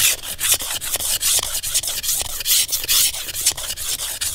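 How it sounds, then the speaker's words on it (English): A knife blade scrapes the hard, crispy outer layer off a wooden stick in quick, steady, rasping strokes, close by and continuous, with no voices. "First we scrape off the outer layer."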